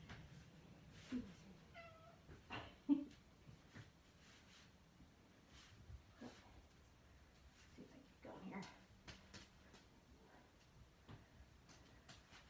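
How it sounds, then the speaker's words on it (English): A cat meows at someone's feet during indoor fursuit juggling practice, giving a few short, soft calls amid faint background rustling and movement. "I got a cat on my feet already"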